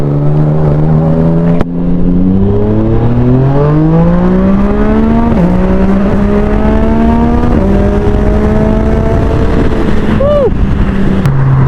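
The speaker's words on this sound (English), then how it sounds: "Sounds insane, and the quick shifter sound is amazing thanks to this Akrapovic exhaust." A Yamaha MT-09 motorcycle with an Akrapovic exhaust and quick shifter revs loudly up through the gears, its engine note climbing, dropping at each quick shift, then climbing again, close and continuous.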